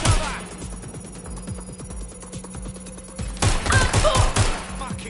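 Rapid automatic gunfire in the game Watch Dogs Legion, a dense rattle of close, loud shots in quick bursts, briefly thinning before another heavy volley near the end.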